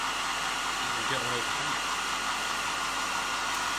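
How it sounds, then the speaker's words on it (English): A hairdryer blows a steady, loud rush of air over wet metallic paint on an Ork Dragsta miniature, running continuously with a brief spoken remark early on. "Let's just give it a quick blast of the hairdryer so I don't smudge any wet paint"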